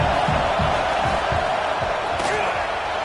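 A football stadium crowd roaring during a field goal attempt, a dense continuous wash of noise with rhythmic low thumps like stomping or clapping, loud and close throughout.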